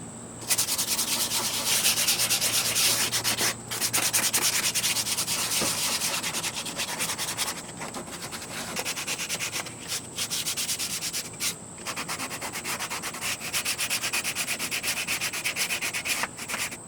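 Steady, loud sanding of a wood exterior fascia board, a continuous rasping scrub with rhythmic back-and-forth strokes and a few brief pauses.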